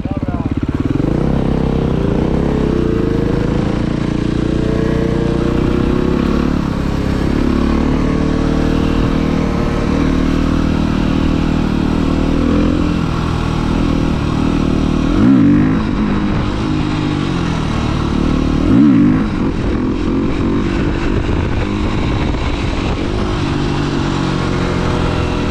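A new 2019 Senda 50cc motorcycle rides steadily along with a continuous buzzing small-engine drone, close and loud, with slight throttle changes throughout, while a rider talks over it.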